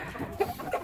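A rooster gives a few soft, brief clucks close by against a quiet background, with no talking.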